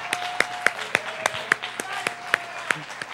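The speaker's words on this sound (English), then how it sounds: "Give her a round of applause." A small audience at an open stage magic show gives a volunteer a brief round of sparse, scattered clapping, the individual claps distinct and fairly light.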